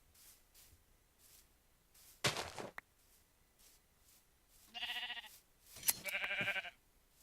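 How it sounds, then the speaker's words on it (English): Sheep bleat in Minecraft: two short, loud bleats with a pause between them, over a quiet background and a brief louder noise before them. "With all these sheep, I'm a little bit sad that I didn't get a special pink sheep or something"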